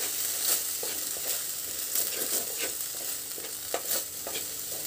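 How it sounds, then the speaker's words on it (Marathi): Ginger sizzling as it is sautéed in ghee, a steady close frying hiss with repeated stirring scrapes of a spoon against the pan, no voices. "आपण आता हे आलं व्यवस्थित परतून घ्यायचं आहे"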